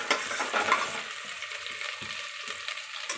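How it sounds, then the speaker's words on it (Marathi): Finely chopped onion sautéing in a pan until golden for a chicken curry, a close, brisk sizzle with rhythmic stirring scrapes, about four strokes over a few seconds, without speech. "थोडा सोनेरी रंग येईपर्यंत परतून घ्यायचा आहे कांदा आपल्याला"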